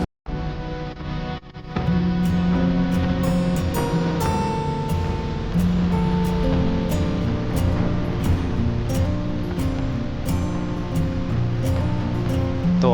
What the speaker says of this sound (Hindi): वो पीछे जो मेरे दिख रहा है आपको बैकग्राउंड एक खूबसूरत सा झरना, वही है चीगू वाटरफॉल